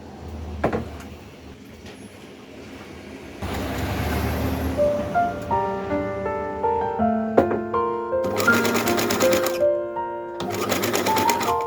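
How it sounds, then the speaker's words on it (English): A sewing machine stitches a vintage dress sleeve, running in close rhythmic bursts of rapid mechanical chatter separated by short pauses, with some handling noise between runs. "I'm now going to sew it, and then I'm going to pin the sleeve into the armhole and sew that."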